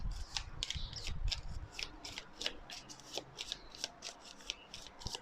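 Oracle cards are shuffled by hand in a quick run of crisp, riffling slaps and flicks, close and fairly soft, with an uneven but steady rhythm and no talking.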